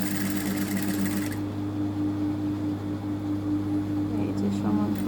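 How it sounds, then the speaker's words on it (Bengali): A sewing machine runs steadily up close, back-stitching while a zipper is sewn onto a garment, with a continuous mechanical hum and rattle that drops to a lower drone partway through. "এখানে ব্যাক স্টিচ দিয়ে নিচ্ছি আবারও"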